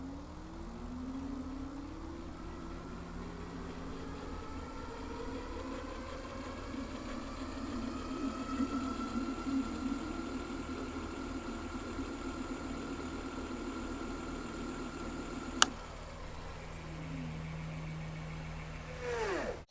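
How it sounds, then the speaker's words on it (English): The rear hub motor of a Philodo Falcon 60V 5000W ebike spins up with no load, a steady whirring hum that climbs in pitch and holds, followed by a sharp click and a brief wind-down. "So we're gonna test out the speed real quick with no weight on it, just the rear motor."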